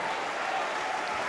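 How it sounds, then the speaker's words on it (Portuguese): Church congregation applauding during a Portuguese-language evangelical worship service: steady, dense clapping sustained throughout, no voices over it, fairly soft and even. "Olhem para o céu, aplaudam e deem glória a Deus."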